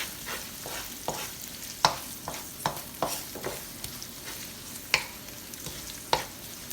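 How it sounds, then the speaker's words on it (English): Onion and dry red chili stirred in a frying pan, a series of sharp spoon scrapes and taps recurring every second or so over a soft, quiet sizzle. "Now you add your onion and your red dry chili. And mix that for a little bit."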